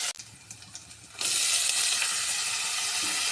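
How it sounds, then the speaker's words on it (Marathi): Chopped onion hits hot oil in a pan while chana masala is being cooked, bursting into a loud, steady sizzle that continues evenly after a quieter moment of faint clinks. "कांदा चांगल्या प्रकारे परतून घेणार आहोत।"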